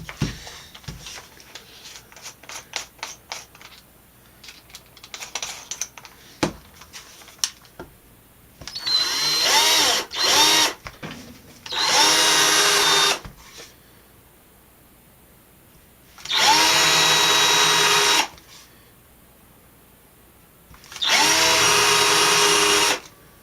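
A power drill whirs in four long bursts drilling peg holes, separated by quiet gaps, after a stretch of scattered clicks and handling knocks.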